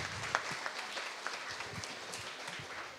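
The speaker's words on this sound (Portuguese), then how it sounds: "vamos aplaudir a Ariane e a Eduarda pelo projeto delas" Students and guests at a youth council session in a school give a short round of applause for two girls whose project was approved, a quiet, fairly distant patter of scattered claps lasting about three seconds.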